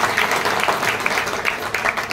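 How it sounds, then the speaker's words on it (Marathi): Audience applause at a stage event, a dense, loud burst of many hands clapping steadily for the full couple of seconds, with no talk over it. "एकदा जोरदार टाळ्या होत्या."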